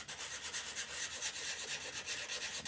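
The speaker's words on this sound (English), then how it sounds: "now it's just a lot of hand sanding" Hand sanding a painted glove for a Mandalorian costume: steady, close rasping strokes of abrasive on the small piece, repeating in a quick even rhythm without pause and with no voices.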